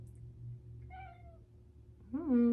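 A cat meows twice, first a soft, higher call, then a louder, drawn-out meow close by, in an otherwise quiet room.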